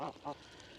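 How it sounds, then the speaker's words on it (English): Sebastopol geese giving two quick nasal honks close by, the second brief call following a short pause, with a faint outdoor background after. "I'm gonna pan around and show you guys the noisy geese"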